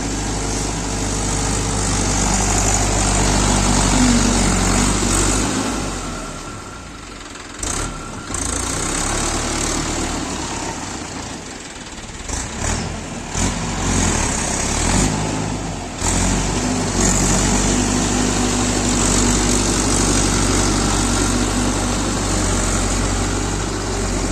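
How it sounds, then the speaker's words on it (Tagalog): Steady loud engine rumble of a tractor tilling a flooded rice field, running continuously with a few brief dips and surges in the noise, no talking. "Maingay, maingay yung tunog ng traktor"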